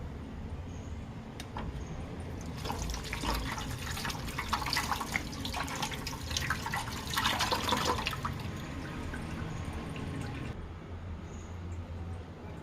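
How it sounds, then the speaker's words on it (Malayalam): Ridge gourd being washed under a running kitchen tap, a steady splashing stream that swells for several seconds in the middle and then eases off, with no talking. "ഇനി ഇതിനൊന്ന് കഴുകി എടുത്തുകൊണ്ട് വരാം"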